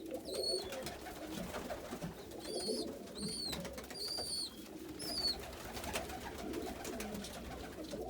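Roller pigeons in a loft, soft repeated cooing and a few higher chirps over a low background rumble, close by and with no talking.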